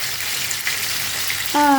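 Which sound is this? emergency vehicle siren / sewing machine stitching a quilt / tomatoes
tomatoes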